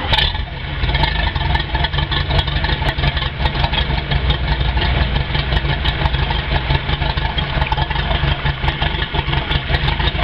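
A Four Winns boat engine idles steadily after start-up, a loud, continuous low rumble that holds an even level throughout with no talking.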